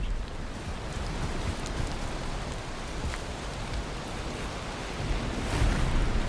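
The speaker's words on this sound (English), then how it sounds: "I really wish it wasn't raining." Steady rain hisses continuously across a farm with terraces in the game Valheim, a broad, even downpour with no voices.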